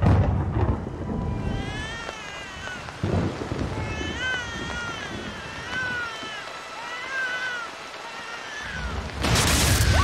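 Thunder from a lightning strike rumbles loudly at the start and again near the end, with rain and cat-like meowing tones in between; a loud crack bursts in at the close.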